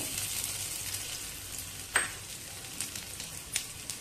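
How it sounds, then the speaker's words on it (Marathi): Cumin seeds and garlic fry in hot ghee with a steady, close sizzle, broken by a few sharp spoon clicks and scrapes against the pan. "तूप चांगलं गरम झालेलं आहे. पाव चमच्याला कमी जिरे घालूया. त्याच्यातच लसूण घालायचा."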